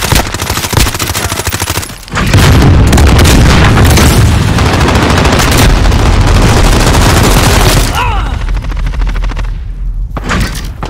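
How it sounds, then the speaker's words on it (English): Combat in Call of Duty Modern Warfare, with rapid machine-gun bursts, then loud booming airstrike explosions rumbling for several seconds, and scattered gunfire continuing, all very loud and close. "Allied precision airstrike."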